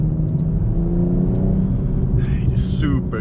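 A BMW M240i xDrive in Sport Plus mode accelerates with a steady engine rumble and whir, a few sharp exhaust pops near the end, with talk over it.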